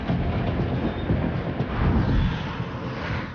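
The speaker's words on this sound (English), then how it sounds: "The mega train must travel over 100 miles from the middle of Norway to the deep south" A freight train in Norway rolls steadily along the rails, its continuous loud rumble and rattle of wagons filling the scene with a dense, even roar and slight surges in intensity.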